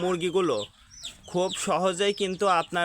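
Close, loud clucking from chickens in short bursts of throaty calls with a brief pause in the middle.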